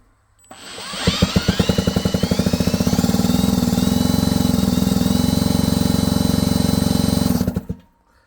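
A Minarelli K6 (P6) scooter engine starts and settles into a fast, steady idle with no silencer fitted, giving a loud, close, even buzzing putter that holds for several seconds before cutting off.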